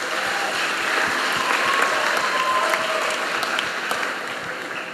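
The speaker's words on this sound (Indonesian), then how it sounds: "Tepuk tangan." An audience at a school gathering for student faith formation claps together, a steady, dense round of applause from a crowd that holds evenly for several seconds.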